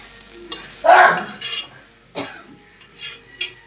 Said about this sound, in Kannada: ಮೊಟ್ಟೆ ಚೆನ್ನಾಗಿ ಫ್ರೈ ಆದಮೇಲೆ